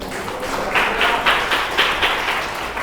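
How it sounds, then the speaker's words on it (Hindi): A congregation at a church gathering applauds, a steady mass of clapping hands that rises in waves and holds fairly loud for a few seconds, with no speech on top. "अरे तालियां बजाओ प्रभु के लिए"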